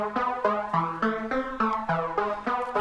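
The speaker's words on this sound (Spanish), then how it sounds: "ya empieza a sonar ese flanger envolviendo allí el sintetizador de una manera sutil, un flanger muy básico" A synthesizer run through the Arturia Flanger BL-20 default preset plays a repeating pattern of bright notes, with a subtle sweeping, swirling shimmer over each note at a steady tempo, alone with no voices.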